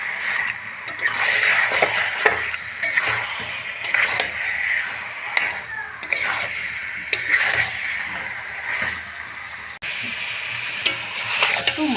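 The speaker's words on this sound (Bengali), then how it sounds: "খুব ভালো করে আমি মাটনটা কষিয়ে নেব।" Mutton is stirred and fried with spices in a pan, giving a continuous close crackling sizzle broken by repeated sharp scraping ticks and knocks of the spoon.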